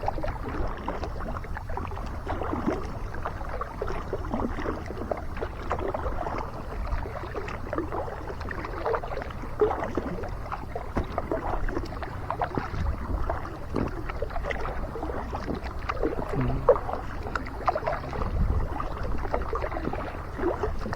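Continuous gentle splashing and gurgling of a kayak paddle moving through shallow water on the Erie Canal, steady throughout, with light wind in the background.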